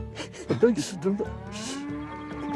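Cattle in Connemara, Galway, give a loud, close, drawn-out moo followed by a lower sustained call, with no other sounds competing.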